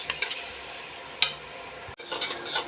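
Yogurt paste frying in a pan with ground ginger and green chilli, giving a quiet steady sizzle with a sharp stir or clink near the middle and a brief dropout before the frying noise resumes.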